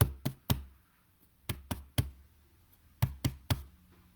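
Knocks on wood come in three groups of three during a ritual invocation of the moon, sharp and evenly spaced, with pauses between the groups in a quiet room.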